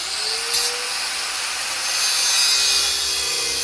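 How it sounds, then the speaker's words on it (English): A cutoff wheel grinding through a metal part clamped in a vise during a 1962 Ford Ranchero rebuild, a steady loud hiss-like whine, close and continuous, alone with no talk. "I'm still going to just use the cutoff wheel because I'll be able to cut it"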